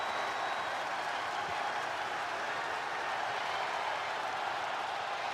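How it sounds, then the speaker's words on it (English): Steady, dense crowd noise from a virtual wrestling arena audience in WWE 2K25, a continuous roar of cheering and applause filling the whole span without a break. "This crowd is really hyped to see Cody."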